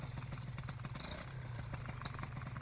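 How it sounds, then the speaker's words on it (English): A Moster 185 Classic paramotor engine runs steadily at idle close by, a continuous low throbbing drone with faint mechanical clatter and no speech over it. "stand up with the motor that's running"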